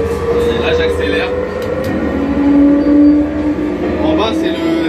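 A train rumbles and accelerates steadily in a Japanese train driving video game, with a rising motor hum and rail noise, while someone talks over it.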